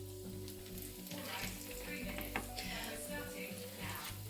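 Vegan chicken sizzles and crackles steadily in hot oil, a soft continuous frying hiss with occasional pops, heard close up and fairly quiet.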